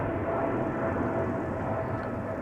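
A KLM Boeing 777-300 jet taking off at Amsterdam Schiphol Airport, a loud, steady engine roar with heavy low rumble and a thin whine that hold at constant strength throughout.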